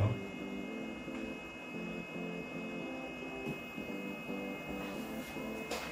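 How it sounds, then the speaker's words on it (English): An Elegoo Mars 2 Pro resin 3D printer's cooling fan gives a faint, steady hum with a low pulsing drone, quiet and continuous, with a couple of soft clicks near the end. "the only sound that you will hear from the Elegoo Mars 2 Pro is just this fan"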